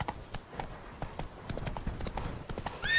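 Roach, Geralt's horse in The Witcher 3, gallops with a steady, close run of hoof clip-clops, a brief whinny and game ambience underneath.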